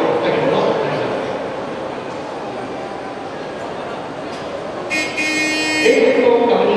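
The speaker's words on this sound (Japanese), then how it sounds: "バッテリートラックに引っ張られて電車がゆっくりと進んでいました" A Seibu train is pulled slowly by a battery truck during a shunting demonstration at a rail depot, a moderate rumbling roll with clanks and a brief high whine near the end, while people talk nearby.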